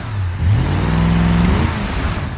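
A car engine revs in low gear in BeamNG.drive, a steady loud drone that rises in pitch as the throttle opens, then holds and fades slightly, with no talking over it.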